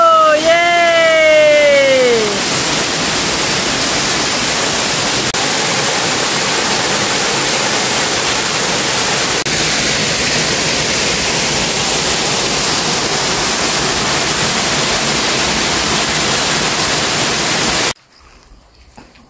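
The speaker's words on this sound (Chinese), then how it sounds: "这里是台东的金峰瀑布" Jinfeng Waterfall in Taitung, Taiwan roars as a steady, loud, unbroken rush of falling water almost to the end, with a short excited voice over it at the very start.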